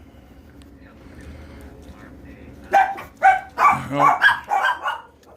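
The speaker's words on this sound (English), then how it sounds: "The dogs" Several dogs bark in a rapid burst of sharp, loud yaps and bow-wows close by indoors, following a quiet stretch with soft speaking in the background.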